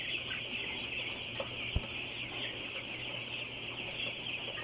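One-week-old broiler chicks cluck softly in a farm house, a scattered, faint chorus over a steady background drone.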